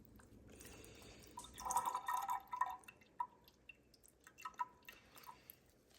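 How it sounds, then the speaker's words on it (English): Coolant and oil drip from a Porsche Boxster 986 engine during teardown, a series of close, distinct drips that cluster early and then fall more sparsely, with no talking. "Got some coolant there and some oil over here. So just let that chill out over here and drain."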